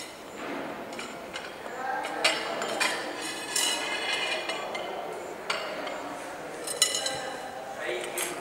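Plates and cutlery clink and clatter intermittently at close range during napkin-folding table service, sharp metallic chinks and ceramic knocks scattered over soft murmuring voices.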